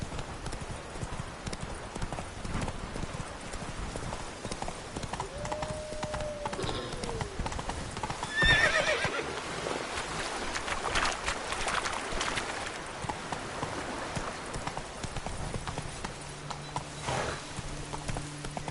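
A horse in The Witcher 3: Blood and Wine clops along in a steady hoof rhythm for the whole stretch, close and continuous, with a brief whinny and scattered game effects and tones layered over it.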